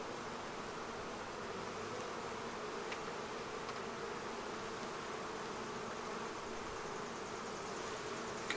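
Honeybees hum in a dense, continuous drone during an open beehive inspection, a close, steady buzzing swarm with no pauses throughout.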